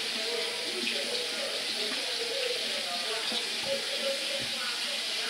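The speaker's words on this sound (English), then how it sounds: "All you gotta do basically is run some water on that thing, and it's over with." Tap water runs steadily over a detangler hairbrush at a sink, a constant close hiss and splash with no pauses.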